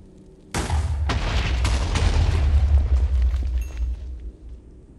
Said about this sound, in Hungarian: Na jó, robbantsuk szét ezt a helyet.